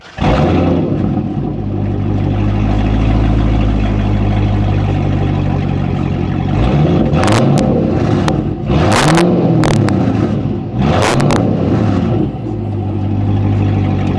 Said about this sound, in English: So next up we'll do sound check on the CTS-V. This sounds amazing.